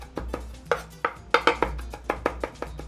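A knife chops ingredients on a cutting board during crab cake eggs Benedict preparation, giving about a dozen close, crisp strikes in an uneven rhythm with no talking.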